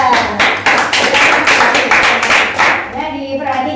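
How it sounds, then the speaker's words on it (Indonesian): A primary school class applauds a student group, a burst of many hands clapping and tapping close by, dense and lively before fading out. "tepuk tangan untuk kelompok"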